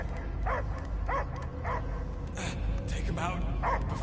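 Dog barking and yipping inside the video game Guardians of the Galaxy, short repeated barks under game music and voices, fairly close.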